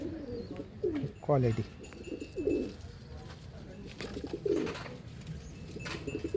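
Pigeons coo at a loft in Pandharpur, including a long-bodied male bird, with several soft throaty coos close by while someone talks over them.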